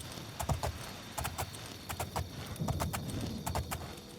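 Horse hooves clip-clop at a steady riding rhythm over a small wooden bridge in the Oblivion video game, moderately close, with no voices.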